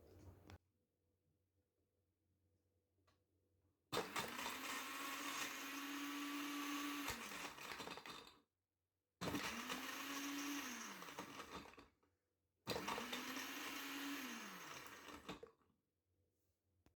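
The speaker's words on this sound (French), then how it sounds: "on peut piler les glaces, et ben moi je vais piler de la fraise, une poignée" Handheld ice crusher pulverizing a handful of strawberries, running in three motorized bursts of a few seconds each with brief pauses between, loud and close.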